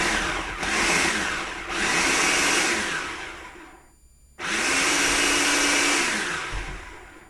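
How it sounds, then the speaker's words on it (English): Food processor pulsing pie dough made with butter and flour, two long whirring motor bursts that rise and wind down with a gap between, loud and close. "it's obviously a lot easier to do it in the food processor"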